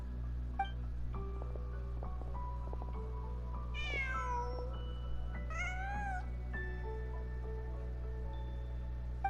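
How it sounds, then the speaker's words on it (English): A cat in a video game meows twice with rising, drawn-out cries over a steady low hum and scattered soft in-game tones, no talk. "Just a cat."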